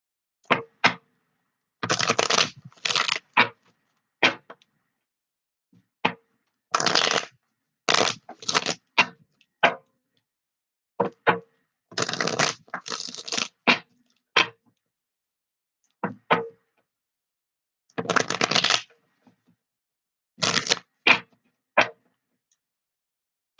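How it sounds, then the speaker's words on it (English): Tarot cards are shuffled in a series of crisp, rapid riffling bursts separated by short silences, close and fairly loud. "let's go for the shuffle"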